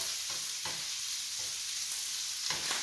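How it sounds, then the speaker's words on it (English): A spoon scrapes and stirs homemade Alfredo sauce, with basil, in a sizzling pan, making a few soft repeated strokes over a constant frying hiss, close and steady, with no voices. "So as we stir this around,"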